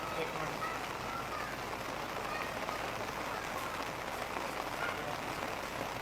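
Heavy rain pours down on a flooded city with knee-deep water in a dense, unbroken hiss that stays constant and loud from start to finish.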